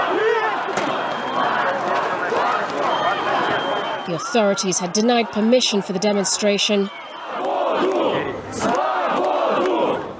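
Crowd of Navalny supporters protesting in sub-zero Vladivostok, facing off with police: a loud, continuous roar of massed voices and chanting, swelling into rhythmic shouts in the middle, with a news narrator speaking over it throughout.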